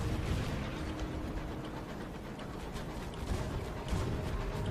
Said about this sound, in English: And I still hear gunfire.